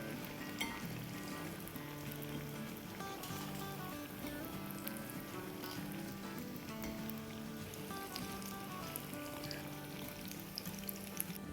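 A second batch of kandi samosas deep-frying in oil, producing a faint, steady bubbling sizzle beneath background music, with no voices.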